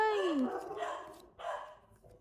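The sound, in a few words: dog barking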